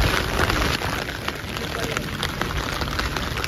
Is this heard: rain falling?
yes